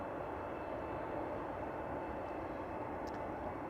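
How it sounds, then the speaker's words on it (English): A Saudi Boeing Dreamliner arriving from Jeddah lands on runway 36 right at Amsterdam Schiphol Airport, heard as a steady, even jet roar at a distance with no talking. "Now, unfortunately, the Saudi Dreamliner arriving from Jeddah is going to the recently opened"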